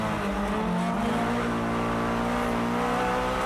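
Honda S2000 race cars battle on a track during a 2003 tuning contest, loud engines howling steadily with a brief pitch dip near the start, then sustained continuous roar.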